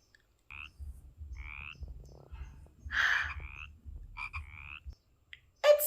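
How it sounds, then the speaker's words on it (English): A frog croaking sound effect plays as several distinct ribbit croaks in a row, loud and close with brief gaps between them. "It says ribbit"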